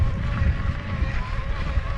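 A light breeze buffets the microphone on an e-bike ride near La Rhune from Olhette, a steady low rumble with gusty fluctuations throughout.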